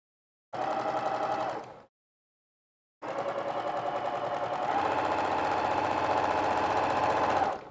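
A sewing machine stitches one continuous quilting line across a kids' apron, running in two bursts: a short one of about a second, then a pause and a longer, steady whirring run of several seconds, loud and close with no talk.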